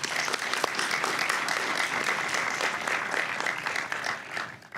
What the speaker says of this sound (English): give a huge round of applause to them